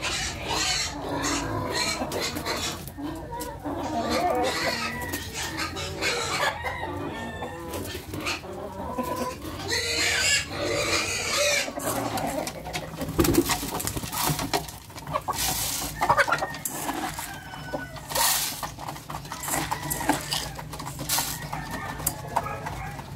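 Black Australorp hens cluck and chatter continuously in a busy poultry yard, with occasional louder squawks among the steady flock noise.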